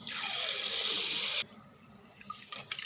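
Water pours steadily from a tap over rice in a container for over a second, then stops, followed by faint wet shuffling and light clinks.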